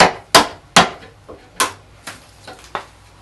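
Sharp strikes of a hammer driving a chisel into pallet wood, about seven knocks at an uneven pace, some loud and some lighter, close by with no voices.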